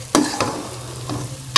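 Semolina milk halwa cooking in ghee over low heat, with a few soft scraping stirs and a quiet sizzle near and close at hand, no voices.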